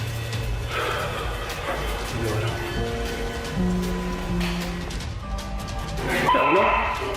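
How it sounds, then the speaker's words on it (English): A dog on full alert gives a series of barks and high yelping cries over a noisy indoor background, with brief tonal music and some speech mixed in. "his dog literally screams at something in the hallway"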